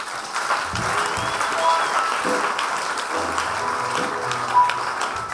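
A church congregation breaks into sustained applause, with dense, even clapping that carries on throughout.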